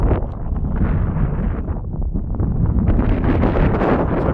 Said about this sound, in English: Wind's starting to get up a bit.